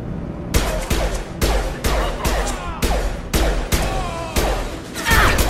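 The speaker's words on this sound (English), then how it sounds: "Blue Suns and Vorcha shooting anything that moves." Blue Suns mercenaries and Vorcha trade heavy gunfire in a Mass Effect 2 firefight, repeated loud bursts of shots roughly every half second, close and punchy, with crashes and debris in between.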